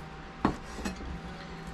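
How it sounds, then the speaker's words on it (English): Knife chopping chunks of Pacific salmon on a cutting board, a few sharp thuds spaced apart over a quiet background with no talking. "I'll finish chopping this up, and then we'll go from there."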